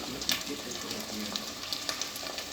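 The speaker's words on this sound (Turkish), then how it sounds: "Şimdi kıymayla da kavuracağım." Minced meat sizzles steadily in a hot pan with onions, with occasional scraping taps of stirring over the constant crackle.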